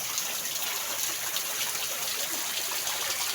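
A small waterfall runs in rainy weather, giving a constant, even rush of trickling and splashing water close by with no speech.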